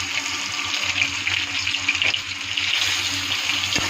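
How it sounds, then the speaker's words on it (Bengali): Chopped onions fry in hot oil in a pan with cumin seeds and a bay leaf, giving a steady, close sizzle with no one talking. "ওর মধ্যে একটু কাটা পেঁয়াজ ছেড়ে দিয়ে দিলাম।"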